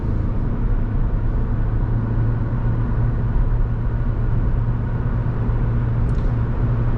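A car pulling away from a roundabout, its engine a steady low rumble that stays loud and close inside the cabin throughout, with no one talking.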